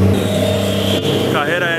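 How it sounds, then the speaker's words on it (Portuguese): A Porsche 911 Carrera S engine droning steadily and loudly at close range as it passes on a city street, with someone talking over it. "Porsche 911."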